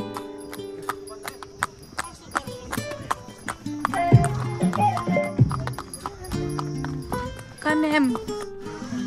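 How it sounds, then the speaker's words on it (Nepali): A horse in Kanyam, Ilam, clops along with sharp, rhythmic hoofbeats close by, mixed with tonal sounds and a possible whinny. "यही थियो मेरो घोडा।"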